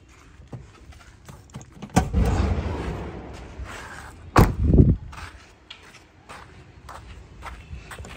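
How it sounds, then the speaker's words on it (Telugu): Someone opens the bonnet of a used Maruti Swift car: a sharp latch click, then a rustling shuffle, followed by a couple of heavy metallic clunks and thumps as the hood is lifted, with quieter handling noises afterward. "ఒకసారి బానెట్ ఓపెన్ చేసి చూపిస్తాను"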